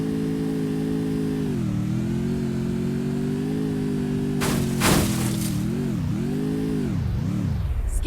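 A motorbike engine revs in the Free Fire video game, a loud steady mid-pitched drone that dips and rises, with a brief crash burst partway through and wavering revs toward the end.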